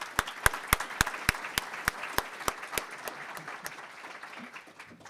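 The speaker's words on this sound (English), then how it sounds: "So a round of applause to Rusty." Applause from the audience at an epilepsy research conference session, with a few sharp, loud nearby claps standing out over a softer, continuous crowd clapping that gradually tapers off.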